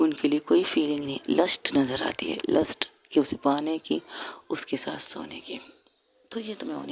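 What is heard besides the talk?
No distinct noise like a dog, phone or traffic.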